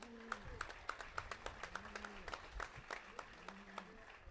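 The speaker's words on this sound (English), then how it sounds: "Can I get a round of applause for them?" An audience at a bull test and sale in San Luis Obispo claps together, a steady patter of hand claps with some louder individual claps over low crowd murmur, while someone speaks over it.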